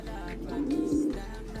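Pigeons cooing in a breeding loft, a soft brief coo rising in the middle of a faint, quiet background.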